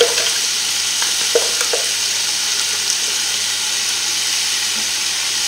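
Garlic frying in a pan for a salmon risotto makes a steady, fairly loud hiss, with a few light clicks of a utensil near the start, then continuous even sizzling with no speech.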